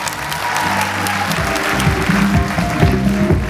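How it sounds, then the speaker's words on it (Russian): Audience applause at a Mythbusters fan event in Ukraine, sustained clapping from a crowd at moderate loudness, with tonal voices or music faintly underneath. "Уже ваши аплодисменты."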